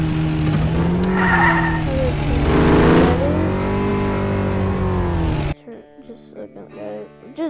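A truck engine roars and revs loudly in the Offroad Outlaws video game, with tire skids and a rising whine, then cuts off abruptly. A voice speaks briefly afterward.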